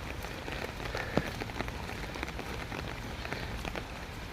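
Light drizzle falls on a morning after heavy rain, a faint, even patter of small drops on surfaces, soft and continuous with no talking.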